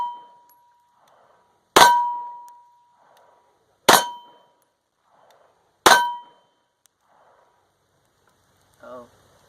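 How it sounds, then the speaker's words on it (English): Three sharp, loud shots from a Sig Sauer P226 Legion SAO pistol firing 115 grain 9mm ammo at an outdoor range, evenly spaced about two seconds apart, each with a quick ringing decay, followed by a brief faint voice. "Shooting the Sig P226 Legion SAO. First shots right out of the box."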